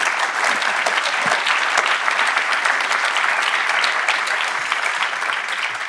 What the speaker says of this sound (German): die wir jetzt mit einem herzlichen Applaus verabschieden